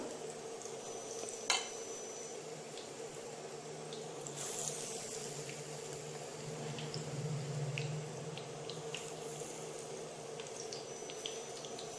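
Chilli bajji, whole green chillies coated in batter, sizzles softly in hot oil with a quiet, steady bubbling, with small clinks and a brief sharp knock near the start.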